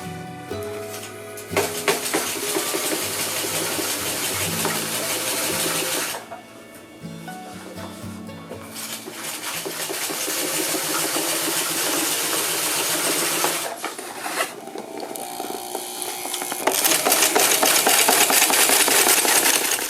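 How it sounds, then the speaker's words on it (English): A FAF 130 sewing machine stitches through layered sail fabric during a sail repair, loud and close with a fast steady mechanical chatter, pausing briefly twice before running on again. "using the FAF 130, my new sewing machine, was quick and easy"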